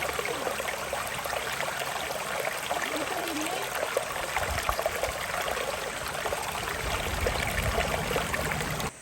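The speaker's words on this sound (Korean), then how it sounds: "캠핑장 아래 제법 괜찮은 계곡이 있더라고요." Mountain stream in a valley below an autumn campsite flowing steadily, a continuous bright rush and trickle of water close by with no pauses and no voices.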